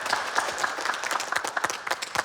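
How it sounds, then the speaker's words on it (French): A small group claps steadily for a couple of seconds, fairly faint and slightly distant. "je pense que vous pouvez vous applaudir."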